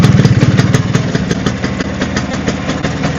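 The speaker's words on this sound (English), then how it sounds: "Gotta love a bit of 2-stroke, ain't ya?" A Vespa PX two-stroke scooter engine runs steadily at idle close by, a continuous buzzing putter with a fast regular pulse and no voices.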